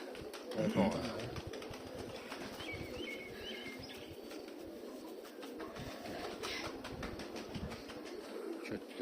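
Pigeons coo and flutter their wings nearby in a steady, busy murmur, with a burst of flapping near the start and a person talking over the birds.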